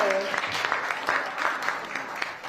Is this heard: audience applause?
yes